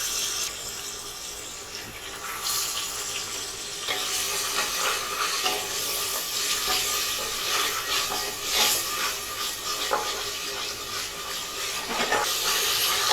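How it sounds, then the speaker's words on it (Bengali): Ginger garlic paste fries with lightly browned onions in a pan, giving a continuous close hissing sizzle with faint stirring movement throughout. "আদা রসুন বাটাকে একটু কষিয়ে নিলাম"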